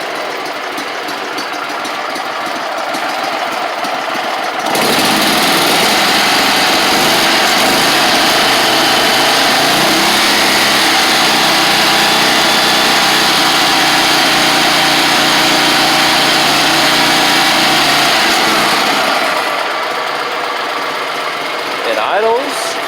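A Gravely 260Z zero-turn mower's small engine idles steadily on its own after starting, a loud, constant, buzzing drone that runs for about fifteen seconds before cutting off into quiet shop ambience.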